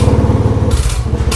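A Royal Enfield Classic 350 with a decompressor fitted runs nearby. Its engine gives a steady, rapid low thump for just over a second, with brief hissy bursts layered on top.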